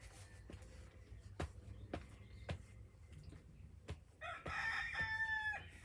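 A nearby rooster lets out one loud, drawn-out crow near the end, preceded by quiet room sounds with several sharp taps and knocks.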